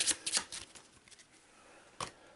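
Eldritch Horror board game cards are quickly shuffled by hand, giving a few crisp riffling bursts near the start and one more about two seconds in, close and clear with no talking.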